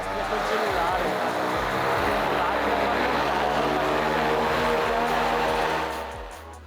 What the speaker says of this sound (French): les moteurs sont soumis à des tests de puissance grandeur nature, avec cette fois-ci une hélice qui va permettre de déterminer la poussée générée